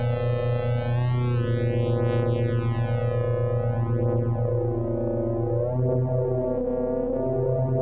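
A Stylophone CPM DS-2 drone synthesizer with its resonance raised holds a steady, dense harmonic drone while resonant filter sweeps rise and fall, whistling and chirping across the tone, loud and continuous with no talking.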